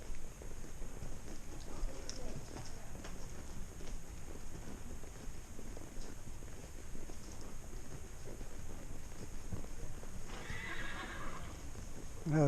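A pony being ridden, with a whinny and hoof clip-clop under steady outdoor noise, a brighter burst near the end; no clear talk.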